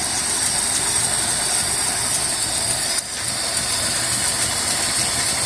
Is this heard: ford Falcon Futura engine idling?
yes